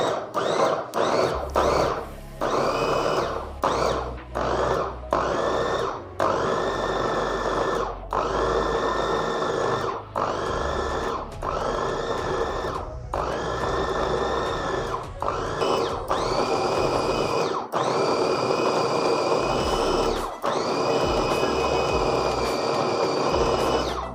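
Electric food chopper whirring in repeated bursts while chopping sandwich filling of chicken nuggets and kabab, short pulses at first settling into longer continuous runs, loud and close with brief stops between.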